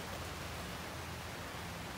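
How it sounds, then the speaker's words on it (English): Rain falls outside in a steady, even hiss of dense drops with no breaks and no voices. "But since it's raining right now"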